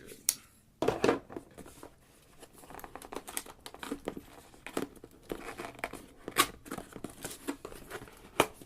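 Samsung packing tape on a Chromebook box being cut open, giving close crinkling, tearing and scraping bursts of plastic and cardboard in irregular spurts, with brief talk mixed in.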